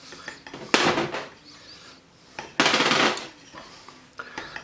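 A utensil scrapes and clatters against a bowl while powdered seasonings and spices are mixed for homemade ketchup, in two loud bursts separated by quieter gaps.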